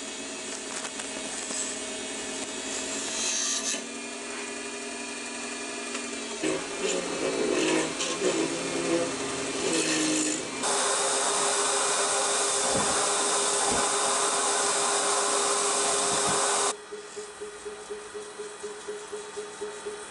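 Wood lathe turning a small maple burl, a steady broadband whirring roar of cutting with shifting intensity, then a brighter, louder stretch of shaving before easing to a softer rhythmic hum near the end.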